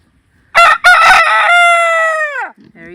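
A rooster lets out a single loud, close cock-a-doodle-doo, a couple of sharp opening notes followed by a long drawn-out final note that fades away, with a soft cluck afterward.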